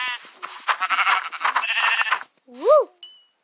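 Sheep bleats from the Minecraft video game, a short wavering bleat standing out clearly after a stretch of lively talking, followed by a brief high tone.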